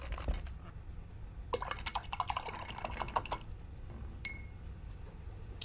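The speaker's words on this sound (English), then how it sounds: "now I'm going to wash my brush" A paintbrush used for acrylic painting is swished and tapped in a water container, giving a cluster of wet clinks and splashes in the middle, then a single glassy tap.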